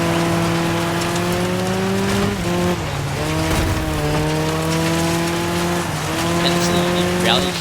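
Mid-engine, short-wheelbase turbocharged Rally GT car driving in the racing game Dirt 5, a steady engine note shifting pitch with gear changes and a brief tire squeal, heard continuously beneath someone talking.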